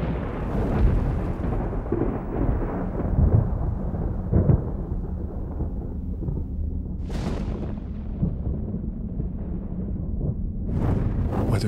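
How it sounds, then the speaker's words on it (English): Deep rolling thunder from a storm over a palace, sustained and loud throughout with crackling peaks and low rumbles building and fading, no voices. "the weather suddenly changed and thunder was heard"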